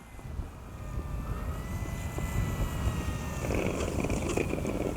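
FMS 1800mm Ranger RC plane motor at low throttle, a steady whirring propeller drone heard from a distance outdoors and holding fairly even with a slight rise toward the end.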